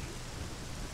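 Steady rain falls in a video game, a dense even hiss of droplets with low rumbling underneath, continuous and fairly quiet with no voices.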